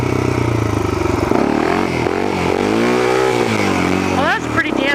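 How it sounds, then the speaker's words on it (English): A motorcycle pulls a wheelie, its engine loud and droning, with the pitch climbing and falling as the throttle opens and eases. People talk over it throughout. "Ooh, wheelie for this guy."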